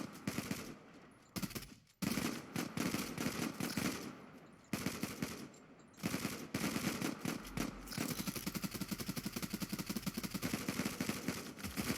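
Gunfire in the online shooter Zula comes as rapid automatic bursts, loud and close. Brief pauses break the shooting before steady firing resumes and runs to the end.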